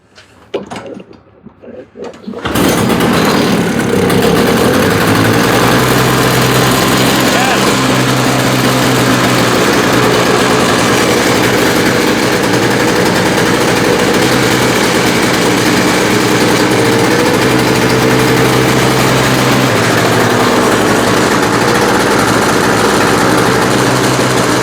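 A Toro snowblower engine fires up with a sudden loud start after a couple of seconds of quiet handling noises, then runs steadily at a constant, close, rough idle for the rest of the time.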